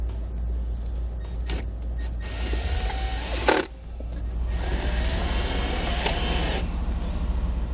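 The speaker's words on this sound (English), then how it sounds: "Now I'm just going to use some self-tapping screws to put this in place." Self-tapping screws driven into the dash of a 2014 Chevrolet truck with a power driver, two whirring bursts, the longer one near the end, with a short sharp click between them, close and fairly loud with no talk.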